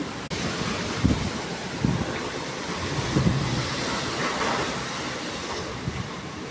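Strong wind gusts roar steadily through distant trees outdoors, with buffeting on the microphone and a few dull bumps.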